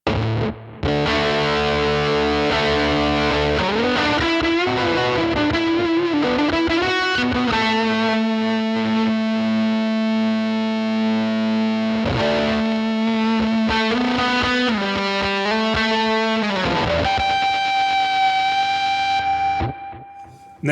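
An electric guitar played through a fuzz effect on a Headrush Gigboard, loud, thick distorted notes and sustained chords ringing out alone before fading at the end.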